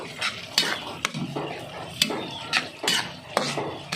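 Two eggs being stirred and mixed in a pan, a run of scraping, clattering strokes with a soft sizzle underneath, close and fairly steady over a few seconds.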